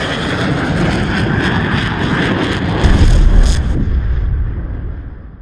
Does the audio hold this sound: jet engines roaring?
yes